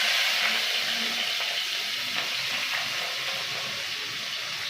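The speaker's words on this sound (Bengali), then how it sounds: "কড়াইতে তেলটা গরম হয়ে গেছে, আমি পেঁয়াজগুলো দিয়ে দিলাম" Steady, loud sizzling of onions frying in hot oil in a wok, a constant crackling hiss close by with faint stirring scrapes, no voices.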